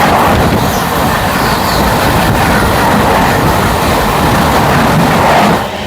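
The Vikramshila Express 12368, running from Anand Vihar to Bhagalpur, rushes past at about 130 km/h with a loud, continuous roar and a rhythmic clatter of wheels. The sound stays close and heavy throughout, then drops away near the end.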